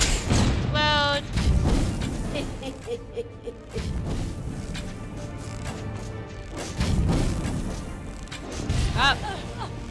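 An explosion spell bursts in the Divinity II video game, a loud crash-like boom mixed with game music and other effects, with a voice speaking over the action.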